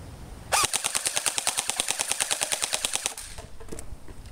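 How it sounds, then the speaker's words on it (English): Airsoft AK74 rifle firing a fully automatic burst of about two dozen rapid, evenly spaced shots lasting roughly two and a half seconds, close and loud, followed by a quieter tail. "we're gonna do the fully automatic part"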